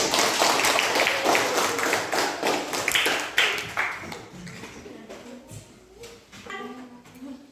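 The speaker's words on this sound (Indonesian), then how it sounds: "Tepuk tangan untuk" A classroom of students claps their hands together, a loud burst of rapid clapping that thins into scattered claps and fades, with faint voices near the end.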